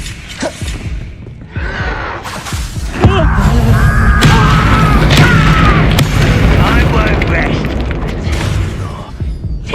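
Bombarda blasting spell from the Hogwarts Legacy video game, a loud booming explosion with whooshes and crackling debris over several seconds, mixed with other game noise and shouted voices.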